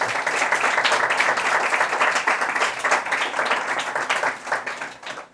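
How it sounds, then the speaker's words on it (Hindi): A church congregation applauds vigorously during a sermon, a thick continuous patter of many hands that holds strong before thinning and fading in the final second. "अपने लिए ज़ोरदार तालियां बजाएं।"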